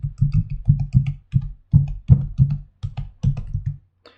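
A name typed into a form field on a computer keyboard, with steady clusters of close, crisp keystrokes in an irregular rhythm, a brief gap near the end and a last faint tap, nobody speaking.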